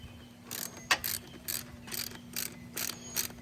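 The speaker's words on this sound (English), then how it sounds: "Now let's go ahead and remove this screw right there on top." A ratchet wrench loosens a screw on top of a Harley-Davidson V-Rod water pump during repair. It gives a quick series of about seven sharp, close mechanical clicks in an even rhythm, with no talk.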